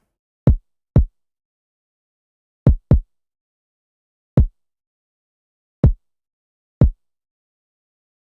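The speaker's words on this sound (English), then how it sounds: "Next sound is the kick." Isolated deep kick drum hits, each a short booming thump with a quick drop in pitch, spaced irregularly with silence between them.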